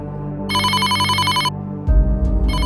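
A mobile phone rings in a cartoon: bright electronic ringtone bursts in a repeating pattern, loud and close, with a low rumbling thump joining near the end.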